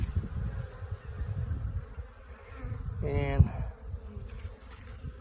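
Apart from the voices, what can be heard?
honey bees buzzing around hives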